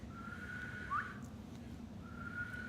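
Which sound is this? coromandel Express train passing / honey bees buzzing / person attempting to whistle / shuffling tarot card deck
person attempting to whistle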